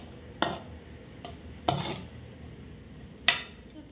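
A spoon stirs chopped banana, apple, pomegranate and cherry into custard, giving three soft scraping knocks against the bowl, widely spaced and quiet in an otherwise still room.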